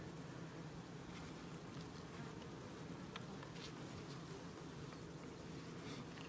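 Honey bees in an opened Langstroth hive deep in the brood frames, a dense steady hum of many bees droning continuously, close but fairly soft.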